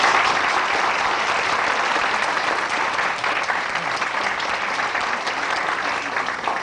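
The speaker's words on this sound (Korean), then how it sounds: "박수로서 나와주시죠." An auditorium audience claps to welcome Professor Sloterdijk to the stage at a philosophy lecture, loud, dense and steady applause that carries on without a break, easing only slightly midway.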